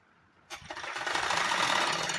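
A sewing machine starts up and runs steadily, stitching along a saree belt stiffened with buckram; the whirring motor and rapid needle chatter stay close and continuous after a brief quiet start.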